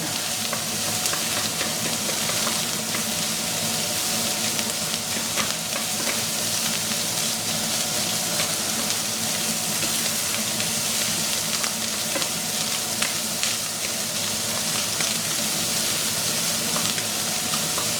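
A ham mixture for tacos fries in a pan with a dense, steady sizzle and crackle, close and loud, with occasional stirring scrapes and no voices.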